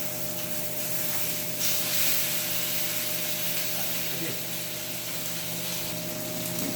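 A ribeye steak sizzles in a pan just after being flipped, a steady close hiss and spatter with a brief louder surge early on, over a faint constant hum.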